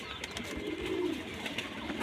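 Pigeons coo softly in a low, murmuring run, steady and close, with faint background hiss and no talk.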